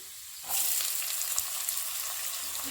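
Onion hitting hot oil for pasta bursts into a sudden loud sizzle that then settles into a steady, even crackle up close.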